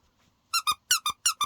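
A squeaky rubber donut-shaped toy is squeezed six times in three quick pairs, each a bright, close, piercing squeak standing alone against near silence.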